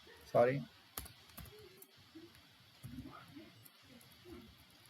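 Typing on a computer keyboard during a programming lesson, with a burst of rapid keystrokes early on followed by sparse, scattered clicks and faint room noise.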